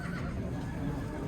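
A horse whinnies at a livestock horse market in Karakol, a short, close neigh with a faint clip-clop of hooves underneath.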